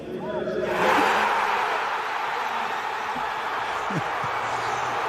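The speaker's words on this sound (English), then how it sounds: "Hear this crowd erupt." A stadium crowd at a Miami football game erupts into a broad, sustained roar that swells early and holds steady, with scattered voices faintly audible within the din.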